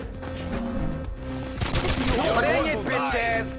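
Gunfire from the video game Not A Hero, a dense burst of shots that sharpens in the second half, with shouting voices and game effects mixed over it.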